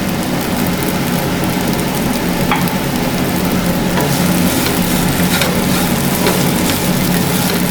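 Idli pieces stir-fried in a pan with garlic, fennel and pepper, giving a steady, loud, close sizzle that carries on without a break, with faint scraping from the stirring and no voices.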